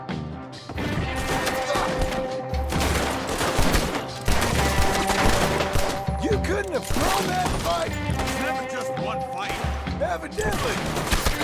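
Rapid gunfire in Red Dead Redemption 2, loud dense volleys of shots and crashes in bursts through the whole stretch, with voices shouting over the shooting.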